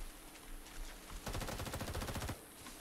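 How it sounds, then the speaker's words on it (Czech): Automatic gunfire in a video game: a dense, rapid burst of shots lasting about a second, set against quieter background game noise; no speech. "Odkud střílí?"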